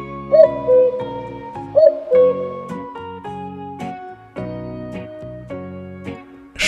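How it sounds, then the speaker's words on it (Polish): A cuckoo calls its clear two-note falling cu-koo twice, evenly spaced and fairly loud, set against gentle background music. "Kukułka."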